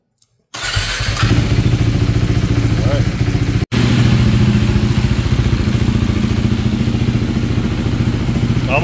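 A KTM 390 Duke single-cylinder motorcycle engine fires up after a short silence and settles into a loud, close, steady idle during an idle relearn, with a rapid even thumping pulse and a brief cut partway through.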